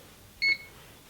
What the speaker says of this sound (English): with that second chime, we know the system's fully armed